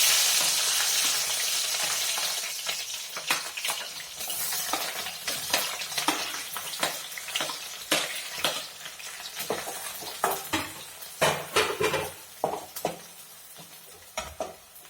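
Chopped vegetables and chillies frying for veg fried rice, a steady close sizzle with frequent sharp scrapes and clinks of a spatula stirring the pan, growing more rhythmic toward the end, with no talking.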